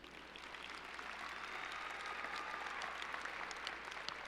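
Faint, distant applause from a high school audience honouring regional and state runner-up cross-country and track athletes, swelling slightly and holding steady as a broad wash of clapping.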